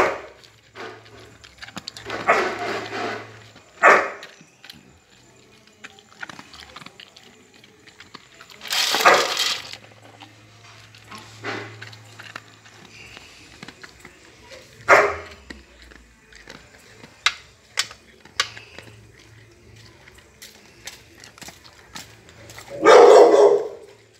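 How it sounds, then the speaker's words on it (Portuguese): Rottweilers barking at feeding time, scattered sharp barks and yips in short bursts with quiet gaps between, one loud close bark near the end, with some faint talk. "Começou a latir."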